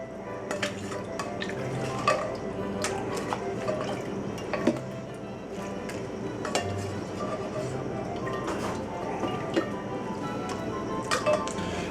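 Cooked tomatoes, chilies, garlic and onions being drained in a kitchen, a steady wet pouring and dripping with scattered clinks of utensils against a pot.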